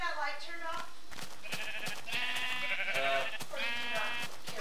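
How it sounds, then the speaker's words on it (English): Sheep bleating in a Minecraft-style video game, several wavering calls close together over excited talk from players. "Sheep!"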